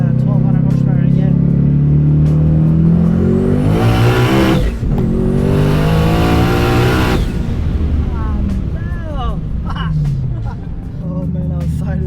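A 1400hp sleeper Ford Mustang street car running 1200 horsepower accelerates hard on a street, its engine loud and close with a rising roar that breaks into a brief shift near the middle, tires fighting for traction as it pulls on.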